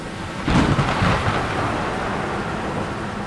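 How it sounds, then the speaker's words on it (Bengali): A deep rumble of thunder bursts in and rolls on, slowly fading beneath steady rainfall; no voices. "বাজ পড়ল বোধহয়"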